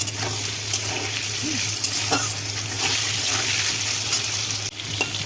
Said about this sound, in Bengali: কালো জিরা ফোড়ন দেওয়ার পর এই আলুগুলো একটু ভেজে নেব।